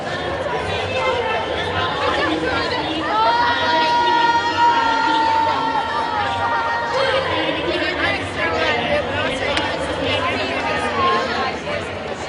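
Crowd noise from the stands at a 2014 roller derby bout between the Hustlers and the Honky Tonk Heartbreakers, steady chatter and babble with scattered cheers and shouts running throughout, loud and close.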